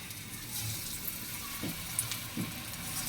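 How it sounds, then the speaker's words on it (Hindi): Pakoras made from potato and onion are dropped by hand into preheated oil, which sizzles and crackles steadily throughout, with a couple of soft splashes as pieces go in; no one speaks. "ऑयल को हमने पहले गर्म कर दिया था और हाथ की मदद से या आप चम्मच की मदद से इसमें इस तरह से हम डालेंगे पकौड़ों को"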